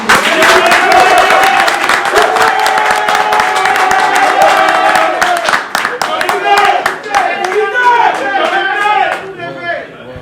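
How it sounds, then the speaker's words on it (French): Audience at a Congolese music announcement event bursting into loud, close applause, a thick burst of rapid clapping that holds strong for several seconds before thinning out near the end. "Encore un tonnerre d'applaudissements pour cette brillante présentation."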